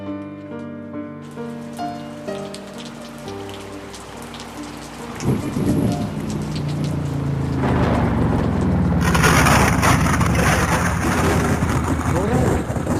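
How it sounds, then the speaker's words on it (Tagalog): Heavy rain pours steadily, swelling louder partway through into a dense, close downpour with a low rumble like distant thunder, alone with no talking. "Palakas ng palakas ang ulan."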